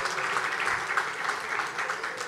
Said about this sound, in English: Round of applause for everyone who's already supporting us.